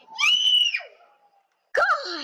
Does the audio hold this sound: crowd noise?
no